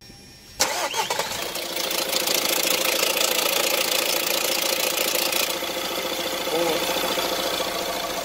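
A Renault 1.6 dCi R9M diesel engine with a stretched timing chain starts abruptly and settles into a loud, steady idle with a rapid rattling knock throughout, close by.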